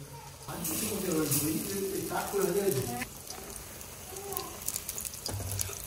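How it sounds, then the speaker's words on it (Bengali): Eggplant slices coated in gram flour batter fry in oil with a low, steady sizzle, while someone talks over most of it. "বেগুন দিয়ে বেসন দিয়ে ভাজা দিচ্ছি বেগুনি।"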